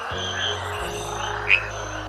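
A rainforest frog croaks close by, a sustained, buzzing call over a low steady hum, with one sharp chirp near the end.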